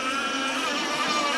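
Racing motorboats on an LS-27 mono course roar steadily, a dense continuous engine whine with no gaps, loud and sustained throughout.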